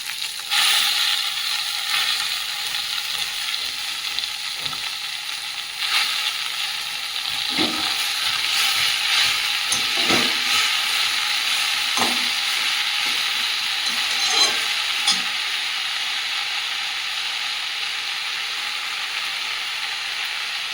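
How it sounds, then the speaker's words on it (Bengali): Chopped leafy greens fry in a pan in a home kitchen, a steady hissing sizzle across the whole stretch, punctuated by a few scraping stirs and clinks of the spatula. "শাক তুলে এনে কেটে দিয়ে শাক ভাজাটা চাপিয়ে দিয়েছি।"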